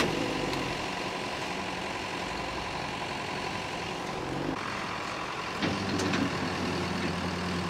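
Heavy tow truck engine idles at close range, then a burst of air brake hiss and a short run of reversing beeps as it prepares to haul away a crashed police car; no talking.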